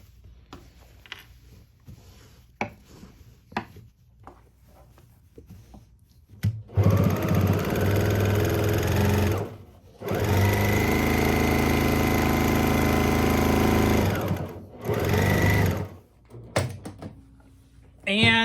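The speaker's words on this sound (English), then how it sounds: "I'm just going to follow the line of stitching that's already on that piece of binding" A sewing machine stitches along existing stitching on quilt binding in bursts of steady, close whirring, stopping and restarting with short pauses, while a person talks quietly in the gaps.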